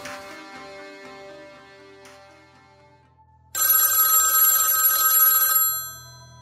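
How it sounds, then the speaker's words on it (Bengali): A telephone rings loudly and alone in a quiet room, a sustained electronic bell tone that starts after a soft musical passage, sets the scene in a Bengali suspense radio drama. "এমন সময় ফোনের শব্দ"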